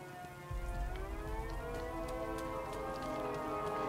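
A siren wails in the Batman Arkham Knight video game, its rising and falling tones sounding at middle distance through a steady wash of rain.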